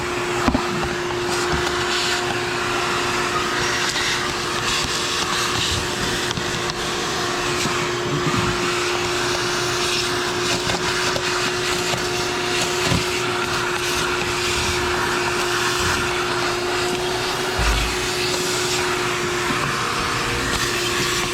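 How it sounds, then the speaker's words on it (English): Steady vacuum cleaner drone with a constant pitched whine, running close and loud without pause while debris is cleared from a Duramax LB7 diesel engine during an injector job. "So I've tried vacuuming it the best I can"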